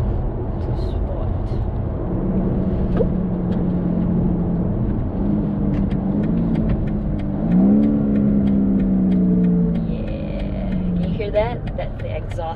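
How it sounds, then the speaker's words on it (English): A 2019 BMW 8 Series in sport mode with its exhaust valves open, droning steadily from inside the cabin, then rising in a short rev sweep before easing off, with a voice talking over it. "That's the exhaust. The valves has opened for my enjoyment."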